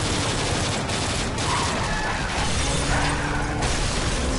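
Continuous loud gunfire from the first-person shooter video game Call of Duty Modern Warfare 3 fills the whole stretch, a dense, unbroken barrage of shots and crackling impacts with no pauses.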